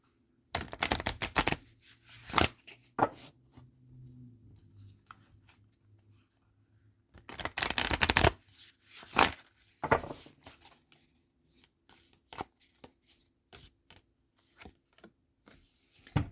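Archetype cards being shuffled and drawn from a deck, with two longer bursts of riffling and many short sharp card clicks in between, close and otherwise quiet.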